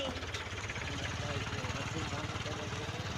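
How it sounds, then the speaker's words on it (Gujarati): A tractor engine runs steadily beside a canal, powering a water pump, with a low, rhythmic throbbing, fairly quiet and constant throughout. "ટ્રેક્ટર મૂક્યું છે"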